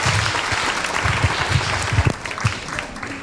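A congregation at a women's church congress applauds during a service, a brief round of clapping with distinct heavy claps amid crowd noise.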